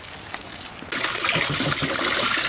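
Water gushes steadily into a hot tub low on water, a loud continuous rushing pour that grows fuller and stronger about a second in, running without pause.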